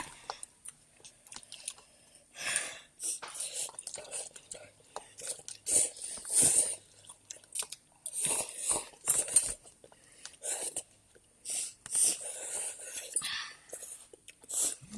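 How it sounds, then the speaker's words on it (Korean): Close, wet chewing and crunchy biting during a Korean mukbang, rhythmic bursts of mastication with short pauses, alongside soft murmured speech in the background. "지금 참고 열심히 먹고 있네요"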